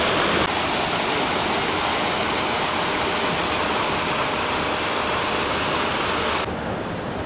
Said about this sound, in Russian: Здесь течет река